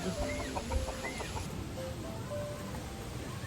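Chickens cluck faintly at a distance over a steady wash of background noise, with a few short calls scattered throughout.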